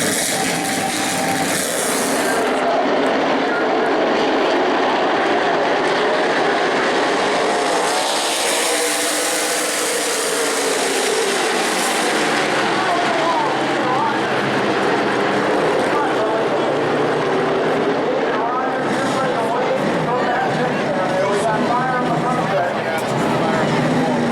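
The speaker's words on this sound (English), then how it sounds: "Start your engines!" Race car engines roar and rev continuously at New Smyrna speedway, with a loud announcer-style voice booming over the throbbing motors.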